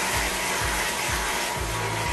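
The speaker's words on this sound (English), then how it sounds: "hand position on the dryer, really important." A handheld hair dryer blows steadily at full speed during a long layered haircut, a loud continuous rushing whoosh with a few faint rhythmic low thumps under it.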